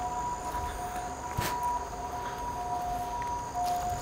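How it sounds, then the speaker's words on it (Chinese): An ambulance siren wails faintly in the distance, a steady held tone over a low outdoor background with a brief rustle partway through. "而且有救护车的声音。"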